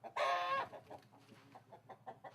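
Chickens on a poultry farm that keeps many breeds, including Sussex, bare-necked birds and commercial hybrid layers. One loud, close squawk comes first, then a run of softer, scattered clucks.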